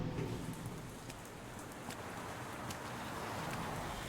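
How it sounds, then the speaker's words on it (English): Steady rain in a horror game called The Operator, a continuous even hiss of drops spread across the whole stretch at moderate level, with faint scattered taps and no voices. "it sounds like it's raining"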